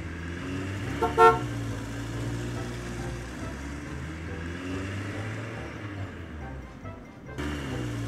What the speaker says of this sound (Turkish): Kamyonet bize gereken aletleri getirdi.